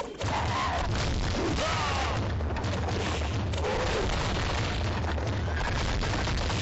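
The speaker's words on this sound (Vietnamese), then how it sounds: "Pháo đang nã vào phía thành." Cannon fire pounds the castle walls in a real-time strategy game battle: dense, continuous low booms and crashes roll together under a busy wash of noise.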